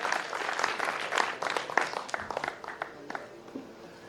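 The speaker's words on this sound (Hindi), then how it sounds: "एक बार जरा पूरा सदन सतीश जी सागर साहब के लिए जोरदार तालियां बजाएं" A full assembly house applauds a guest named Satish Sagar, a steady wash of clapping with a few sharper claps standing out, moderately loud and fading slightly toward the end, with no voices on top.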